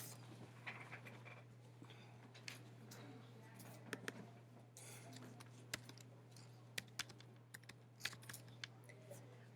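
Keys of a computer keyboard tapped in scattered, irregular bursts during a math lesson, faint clicks over a steady low electrical hum with some quiet room noise.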